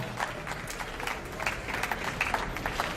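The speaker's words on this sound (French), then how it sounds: "On l'applaudit quand même." Audience at a 2012 slam poetry event gives moderate applause, a loose patter of clapping hands at steady level, not very large or loud, with slight crowd noise beneath.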